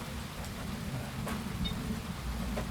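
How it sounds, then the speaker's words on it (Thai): Rain falling steadily outdoors at a roadside fishing spot, a soft continuous hiss with a few scattered drops, fairly faint and with no talk over it. "ฝนตอนนี้ฝนลงเม็ดแล้ว"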